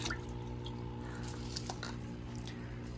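Hydroponic nutrient solution part B, about 60 millilitres, being poured, a soft liquid trickle with squishy drips over a steady background hum.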